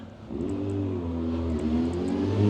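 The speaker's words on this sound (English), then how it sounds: "Oh my goodness, a motorcycle." A motorcycle engine revs steadily nearby on a downtown street in Waterloo, Ontario, its pitch rising and holding, growing slightly louder toward the end.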